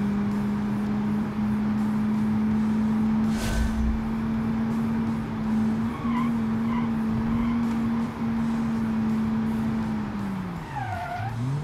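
Car held at full throttle in BeamNG.Drive, a steady sustained engine drone at constant pitch with brief tire chirps, dipping and falling away at the very end.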